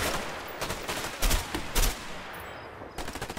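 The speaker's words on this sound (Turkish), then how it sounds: "Ama beni buradan vuruyorlar." Gunfire in the video game A Way Out, sharp bursts of shots in irregular volleys, with several louder close cracks among a busy wash of distant fire, and no talking.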